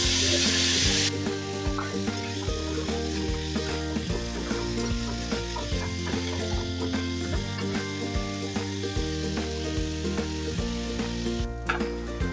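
Pre-cut potatoes and onions frying in a pan for an egg curry, with a loud, continuous sizzle and a few stirring scrapes near the end.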